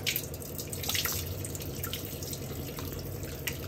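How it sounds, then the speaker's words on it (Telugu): Mutton pieces are washed by hand under a running kitchen tap for a homemade mutton curry, with water gushing steadily into the sink along with light splashes and drips throughout. "ఒక్కసారి కడిగి నీట్గా ఇట్లా కడిగేసుకొని వాటర్ లేకుండా"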